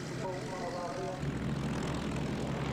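A vintage Westland Lysander piston-engine aircraft flying at an air show, its engine droning steadily at a distance. An announcer-style voice talks over it early on.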